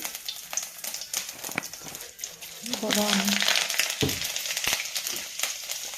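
Whole cumin seeds hitting hot cooking oil in a home kitchen, giving a steady close sizzle and crackle that swells louder midway, with a person talking over it.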